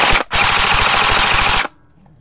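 A Bolt SR47 airsoft rifle with electric blowback fires on full auto in a fast, loud burst of rapid clattering shots that runs about one and a half seconds after a very brief pause, then stops.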